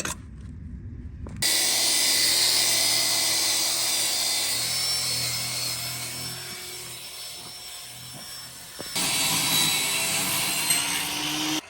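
A power tool cuts a quarter inch off a steel cargo trailer entry door frame, a loud continuous whining buzz that starts abruptly, runs steadily, dips briefly and surges again near the end.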